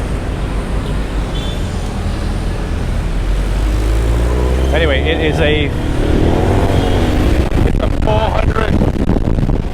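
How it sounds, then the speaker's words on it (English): Constant engine drone and heavy wind rush from riding a 400cc motor scooter, with someone speaking briefly over the road noise. "400cc scooter"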